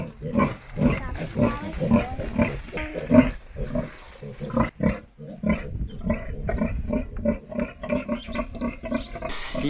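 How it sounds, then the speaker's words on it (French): Mangalitsa woolly pigs on a sheep farm grunt and squeal in a loud, close, overlapping chorus that continues for several seconds. "ainsi que des porcs laineux, donc les porcs Mangalitsa."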